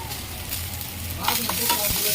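Onions sauté in hot oil in a kadai, giving a steady close sizzle with scraping stir sounds that grow busier and louder toward the end, with no talking.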